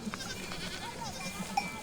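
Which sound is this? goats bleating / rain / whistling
goats bleating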